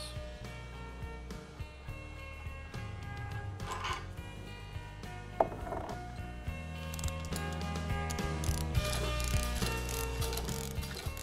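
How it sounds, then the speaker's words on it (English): A manway being rolled aside on a flange removal tool gives a continuous mechanical ratcheting, rolling metal rumble with squeaks and clanks, close and fairly loud, without talk. "Now you can roll your man way out of the way."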